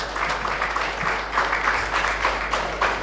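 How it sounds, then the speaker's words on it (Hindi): Applause from the audience welcoming a member of parliament at a smart city conference in Bhopal, a steady wash of many hands clapping for about three seconds with no talk over it. "जोरदार तालियों के साथ स्वागत करें।"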